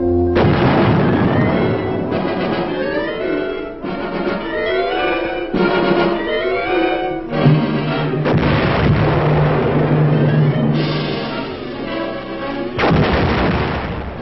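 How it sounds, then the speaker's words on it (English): Cannon artillery fire sounds in a series of loud, booming blasts, repeated every second or two, each followed by rumbling reverberation over a narrow, old-film-quality soundtrack. "the final delicate adjustment before a cannon is ready and the order is given to fire"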